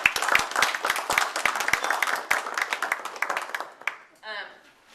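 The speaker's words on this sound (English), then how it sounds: "I think you all deserve a round of applause for even deciding to run" A room of people applauds political candidates, brisk close clapping from a modest crowd for about four seconds before it thins out and a voice begins to speak.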